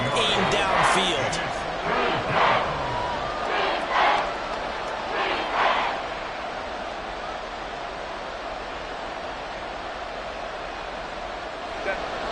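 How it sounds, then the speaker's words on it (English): A packed crowd at Arrowhead Stadium during an NFL football game roars loudly and continuously, with rhythmic chant-like swells in the first half before settling into a steady wash of noise. "The Arrowhead crowd in full roar."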